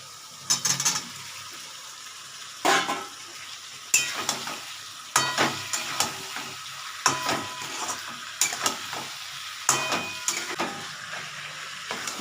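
Fried vegetables for a potato, pointed gourd, pumpkin and prawn curry are tipped into a hot pan and stirred, giving a low sizzle broken by a series of sharp utensil scrapes and clatters at irregular intervals, close by.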